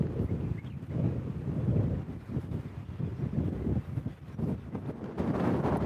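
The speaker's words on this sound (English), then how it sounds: "And it's so windy" Strong gusty wind buffets an outdoor microphone trackside beside a railway, a steady low rumbling roar that surges and dips for several seconds, loud and close with no speech.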